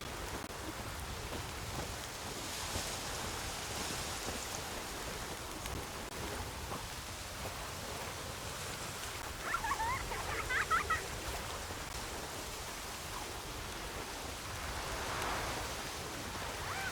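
Steady rain falls in the video game The Witcher 3, a soft, even hiss of rainfall with faint distant rumbling that carries on throughout without any voices.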